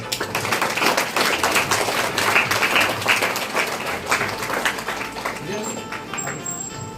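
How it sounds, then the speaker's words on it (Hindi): Students and staff at a government senior secondary school Independence Day function clap loudly together, a dense busy patter of many hands that swells then gradually thins, with some voices and crowd noise mixed in. "हम सब बढ़िया जोरदार ताली बजा सकते हैं।"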